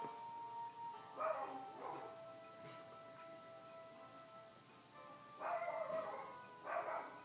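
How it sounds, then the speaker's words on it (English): Dog barking indoors in two bursts of several barks each, moderately near, with quiet stretches between them. "Oh my god, my dog is going crazy right now."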